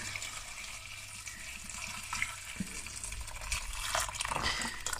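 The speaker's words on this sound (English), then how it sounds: "Let me just stick the water in." Tap water runs steadily into a pot for pasta in a home kitchen, a close, continuous splashing stream that rises in pitch as the pot fills, with a few clunks partway through.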